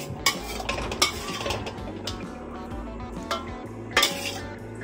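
Fish fillet glazed in butter, honey and oyster sauce being scooped from a pan into a serving dish, with a few sharp utensil clinks and scrapes against cookware over a low continuous background, no talking.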